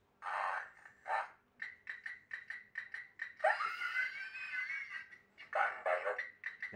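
A Wacky Races Muttley talking alarm clock going off, with bursts of cartoonish snickering voice and chirpy beeping tones repeating in quick succession, close and fairly quiet.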